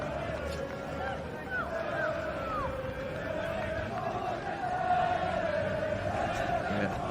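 Background crowd noise from the stands at a Welsh league football match, Caernarfon Town against Colwyn Bay, with a steady roar and some chanting. Commentators talk over the crowd throughout.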